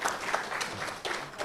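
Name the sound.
audience applause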